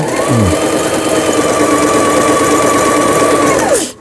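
A sewing machine runs hard with the pedal pressed, a loud continuous mechanical whir and rapid needle knocking that starts at once and winds down at the end.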